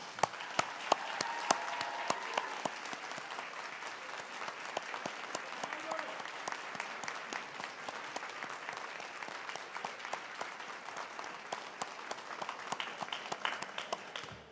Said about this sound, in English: It's your turn and our turn now to applaud them